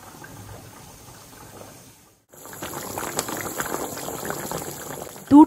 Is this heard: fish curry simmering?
yes